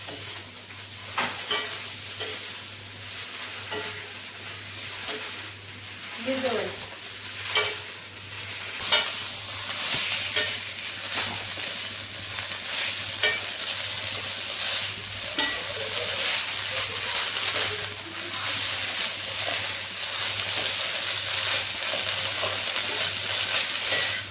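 Chickpea greens are sautéed in a pan, a continuous close sizzle broken by repeated stirring scrapes and spatula knocks throughout, with a low steady hum underneath and no talking.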